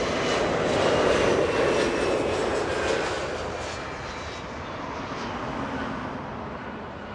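A SkyWest jet from Oakland roars by at Los Angeles International Airport, a moderate, steady engine rumble that dips a little and then swells again.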